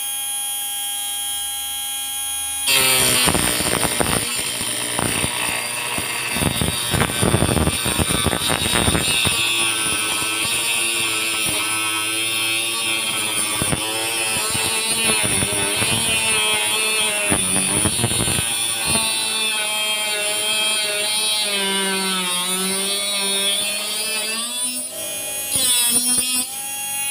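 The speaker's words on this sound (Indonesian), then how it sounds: "seperti itulah tadi hasil kekuatan dari mesin gerinda mini yang kita buat sendiri dari barang-barang bekas" A homemade mini grinder built from scrap and driven by a DC motor whines continuously at high speed, its pitch dipping and recovering under load, loud and close for about 25 seconds.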